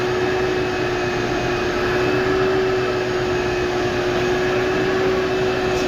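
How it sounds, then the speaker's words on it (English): On a work site, a vacuum cleaner runs loud and close with a constant steady whine over a broad airy roar, unbroken for the whole stretch and with no talk. "getting her cleaned up with the vacuum"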